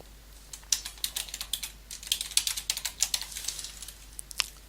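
Text being typed on a computer keyboard, a quick, close run of crisp key clicks in an uneven rhythm with brief pauses, alone without talk.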